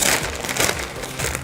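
A chip bag stuffed with shredded paper is pulled open with steady, close crinkling and crunching of foil and paper that continues loudly throughout without pause.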